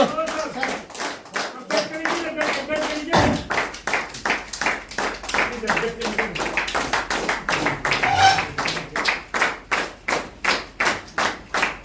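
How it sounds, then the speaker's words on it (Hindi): Audience members clap hard together in a regular, driving beat, close and loud, with some voices mixed in early on. "तो जोरदार ताली के साथ एक बार लास्ट"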